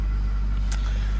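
Toyota Corolla with 262,000 miles and a bad catalytic converter, idling after a cold start: a steady, heavy low engine rumble close by, with one short sharp tick partway through.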